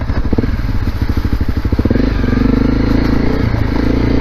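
A Honda CRF250L Rally dual-sport motorcycle is ridden with the clutch feathered. Its engine pulses in a loud, close, uneven chug that settles into a steadier drone, with wind noise and plastic rattle around it.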